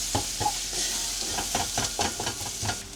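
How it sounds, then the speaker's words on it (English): Onions fry in a pan with salt, chili, turmeric, cumin, garam masala and coriander powder while a spoon stirs them, giving a steady close sizzle broken by regular scraping strokes. "I have to stir this one. I don't want my onion get burned."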